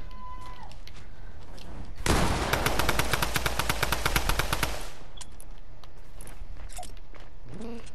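Rapid automatic gunfire from a first-person shooter video game, a dense burst of shots lasting about three seconds in the middle, with quieter game ambience and faint clicks before and after.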